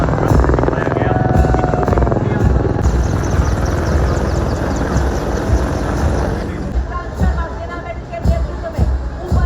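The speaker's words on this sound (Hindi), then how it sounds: "आधुनिक हथियारों से लैस भारतीय सेना के लाइट हेलीकॉप्टर" Indian Army light helicopters pass over a Republic Day parade, their loud rotor chop and engine roar dominating, then fading as crowd murmur and a commentator's voice continue beneath.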